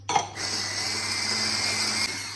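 An electric mixer whips egg whites as sugar is added, a steady continuous whirring drone that starts after a short pause and holds level, with no talking.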